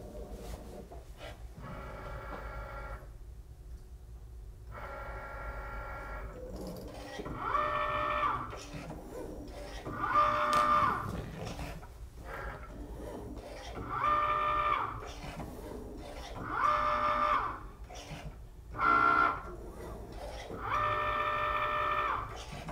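A Cricut Maker cutting machine scores and cuts acetate card, its motor whirring in a series of repeated rising bursts with pauses between passes, fairly close and steady in level, with no talking over it.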